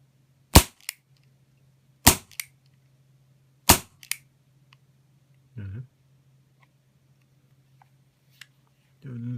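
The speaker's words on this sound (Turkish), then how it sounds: "silah sesini duymak isterseniz diye ateş edeceğim." Three sharp, loud pops of a Walther CP88 CO2 air pistol firing, evenly spaced, followed by a couple of faint clicks and a short murmur of voice.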